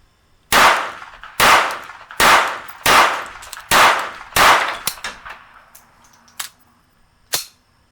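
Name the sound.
pistol being fired rapidly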